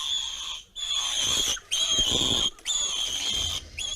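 High-pitched, piercing squeals from a baby warthog caught by a leopard, sustained in long bursts separated by brief pauses, fairly close and loud over rustling background.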